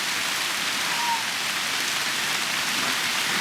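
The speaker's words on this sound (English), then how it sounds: "Out in the rain getting drenched" Steady, dense rain pours onto a forest in the Temagami wilderness, a continuous broadband hiss of drops striking leaves and ground, close and enveloping with no pauses throughout.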